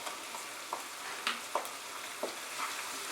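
Onion with ginger and garlic paste frying in a pan over medium heat for a Bengali kadai chicken, a steady quiet sizzle broken by a few soft stirring scrapes.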